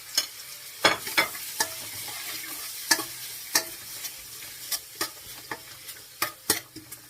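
Onions for dinuguan cooking in a pan over medium heat, a soft steady sizzle punctuated by irregular sharp spatters and scraping stirs.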